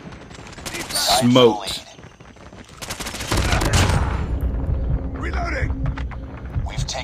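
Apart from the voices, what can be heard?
AS VAL rifle firing in video game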